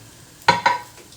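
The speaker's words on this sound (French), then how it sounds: "Et là, je rajoute le bouillon. Alors, du coup, ça va faire de la fumée." Broth poured into a hot pan for a chestnut soup gives two quick, loud sizzling bursts close by, then fades to quiet.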